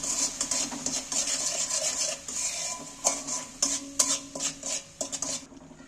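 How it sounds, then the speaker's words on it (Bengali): Steady scraping and clinking of a utensil stirring sweet and spicy Korean chicken sauce in a pan, with a few sharper knocks against the metal near the end. "এবার আমি এটাকে নেড়ে নিচ্ছি একটু"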